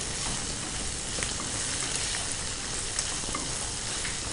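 Asafoetida, turmeric and curry leaves are stirred into hot oil for green mango rice, giving a steady, close crackling sizzle throughout with a few sharper pops and no talking.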